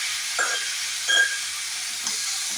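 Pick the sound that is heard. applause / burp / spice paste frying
spice paste frying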